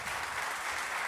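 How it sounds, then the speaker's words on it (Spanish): Faint, steady applause from a church congregation at a morning service, many hands clapping in an even wash from some distance. "Dale un aplauso al Señor en esta mañana."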